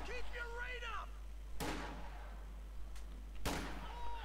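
Gunfire and grenade blasts in Company of Heroes 2: two sharp explosive cracks stand out over game ambience, with a voice talking faintly early on.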